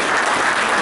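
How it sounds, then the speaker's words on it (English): Dense applause fills a room at an evening volleyball recruiting seminar as two guests are recognized, a steady unbroken wash of many hands clapping close by, brief and loud. "A little round of applause for these two."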